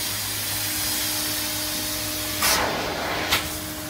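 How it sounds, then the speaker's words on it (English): A weighted carpet extraction tool sucks water from a soaked carpet pad, giving a steady vacuum whoosh and hum followed by two louder slurping, rushing surges, close and without talking. "the weight of the tool and the vacuum pressure, we get a kind of a squeegee effect that supercharges that vacuum, and that water just comes rushing out"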